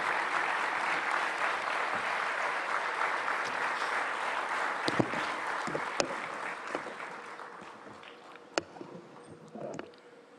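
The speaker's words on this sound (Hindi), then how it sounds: "देवियों और सज्जनों, तालियों की गड़गड़ाहट से एनडीटीवी वर्ल्ड समिट के इस मंच पे स्वागत कीजिए भारत के" A large audience at the NDTV World Summit applauds in welcome for Prime Minister Narendra Modi, a dense, steady wash of clapping that thins slightly toward the end, with a few sharper individual claps standing out.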